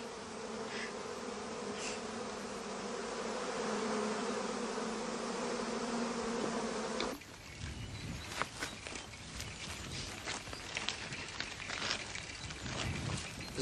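Bees in a hive give a dense, steady buzzing for the first half, then the sound turns to scattered close buzzing and rustling movement, with no talking.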